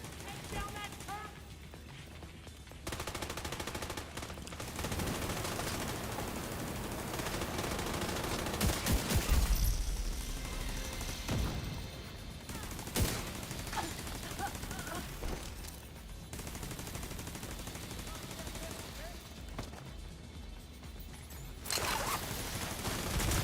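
Turret firing in the video game The Division 2: sustained, relentless automatic fire and bursts continue throughout, fairly loud, with voices talking over the shooting.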